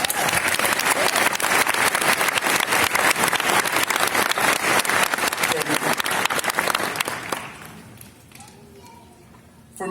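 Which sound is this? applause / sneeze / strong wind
applause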